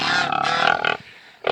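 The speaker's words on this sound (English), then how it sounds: "There's a boar right there." A boar on a farm lets out a loud, rough, drawn-out grunt close by, which breaks off into a short pause before another brief grunt begins.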